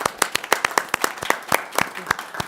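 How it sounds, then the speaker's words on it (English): Applause rises at a school board meeting to congratulate an inaugural class: a modest group clapping in an uneven, fairly steady rhythm, close and clear, with no voices over it. "giving them a congratulatory round of applause"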